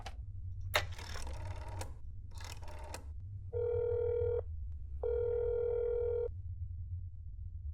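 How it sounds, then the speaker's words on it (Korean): A phone in the game That's Not My Neighbor is dialed and rings, with a few quick button beeps followed by two long electronic ring tones, close and clear over a low hum. "전화를 해보면 되잖아 그죠?"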